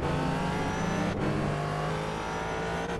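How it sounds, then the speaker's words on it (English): Ford GT race car in iRacing at Spa-Francorchamps, engine droning steadily at high revs with a sustained harmonic whine, close and loud throughout, one brief dip as a gear shifts. "This is a lap in the FordGT on iRacing.com's virtual circuit spot Francorchamps."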